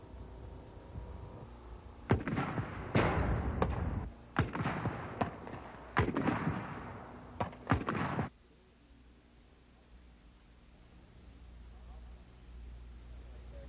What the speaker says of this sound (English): Firing the law rocket is another thrill